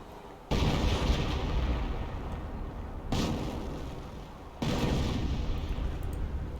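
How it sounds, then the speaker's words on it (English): Three heavy artillery barrage blasts from 25-pounder guns in the World War II strategy game Company of Heroes, loud broadband rumbling bursts at roughly three-second intervals with sustained booming between them. "25 pounders bring in a blind barrage, or a suppressive barrage"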